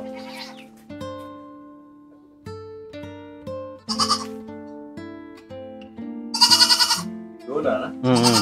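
Goats, including young kids, bleating in a small tribal village, several loud wavering calls close by, coming in bursts with pauses between them.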